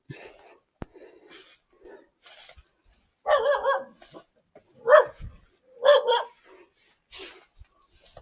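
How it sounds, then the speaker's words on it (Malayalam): A dog barks three times in quick, separate bursts, fairly close, with soft murmured voices in the quiet gaps around them. "പട്ടിയുണ്ട് പട്ടി കടിക്കുമോ"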